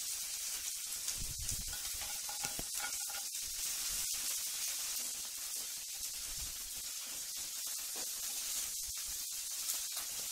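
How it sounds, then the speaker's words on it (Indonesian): Anchovies frying in a pan until dry, giving a steady close sizzle and hiss that runs throughout with small pops and crackles, no talking. "Ikan terinya digoreng tersendiri sampai kering"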